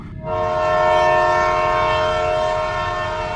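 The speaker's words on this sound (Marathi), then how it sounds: "त्याला लोकल ट्रेनचा जोरदार हॉर्न ऐकू येतो" A loud local train horn blares close by, one long sustained chord that swells in and holds steady for several seconds.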